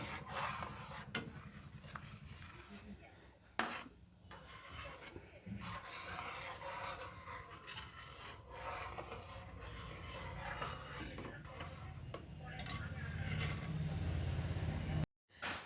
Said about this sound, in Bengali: সিমাইটা দিয়ে আমি নাড়তে থাকবো নয়তো লেগে যাবে